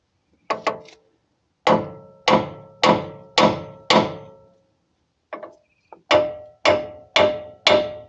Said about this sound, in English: afterwards it helps a lot just giving them a couple of smacks with the hammer